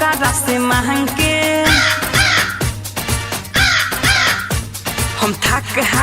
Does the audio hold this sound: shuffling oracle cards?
no